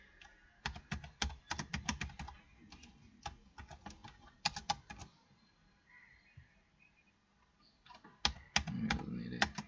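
Code being typed on a computer keyboard in rapid bursts of close, crisp key clicks, with a quiet pause in the middle before the typing resumes.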